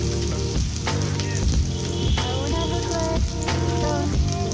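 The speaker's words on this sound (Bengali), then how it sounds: "তেলটা গরম হয়ে গেলে তাতে দিয়ে দেওয়া হচ্ছে পেঁয়াজ কুচি তারপর দেওয়া হচ্ছে রসুন কুচি" Chopped onion and garlic hit hot oil and crackle loudly, a continuous dense sizzle with bursts of spattering and a few scrapes of stirring.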